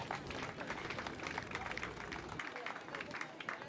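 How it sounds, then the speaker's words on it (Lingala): Mourners at a funeral in Kinshasa applaud together in a continuous patter of many hands, fairly faint and distant, with crowd murmur underneath. "si nous pouvons applaudir très très très fort"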